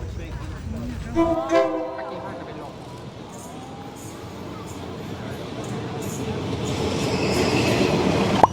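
A train leaving Nakhon Pathom station toward the Death Railway in Thailand rumbles steadily along the rails with a brief horn-like tone early on, wheels and carriage noise building louder toward the end.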